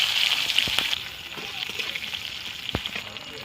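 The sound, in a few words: green chilies frying in mustard oil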